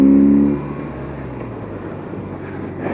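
A 1978 BMW R 80/7 motorcycle with a rebuilt carburetor revs briefly, then settles into a steady, close engine rumble that holds for the rest of the stretch.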